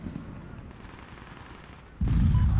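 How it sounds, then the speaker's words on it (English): After a quiet stretch, heavy cannon fire in the video game Medal of Honor bursts in abruptly and keeps pounding loudly and rapidly to the end. "Firing cannon."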